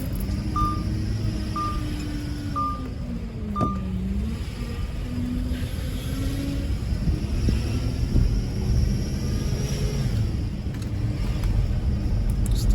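The power steering on an Audi Q7 4.2 V8, overfilled with fluid, gives off a low whine and hum over a steady engine rumble. It drones continuously at close range, with a few faint higher tones near the start.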